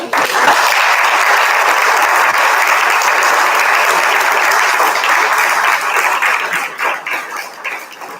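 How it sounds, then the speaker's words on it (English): Loud, dense applause from an audience at a talk on deliberative democracy, sustained for several seconds before thinning and tapering off toward the end. "a round of applause"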